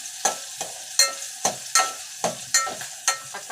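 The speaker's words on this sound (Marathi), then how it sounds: "कांदा भाजून घ्यायचा" Onion fries in a pan for Maharashtrian masale bhat while a spoon stirs it. Loud, rhythmic scraping strokes come about every half second over a soft underlying sizzle.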